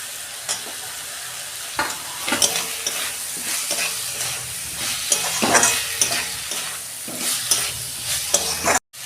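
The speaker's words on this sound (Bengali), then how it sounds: "এবার আমি এইটা একটু কষতে নেবো টমেটোটা দিয়ে দিচ্ছি" Cabbage curry masala with tomato and ground coriander frying in a pan, a constant close sizzle with frequent spatula scrapes and taps against the metal, fairly loud and without talk.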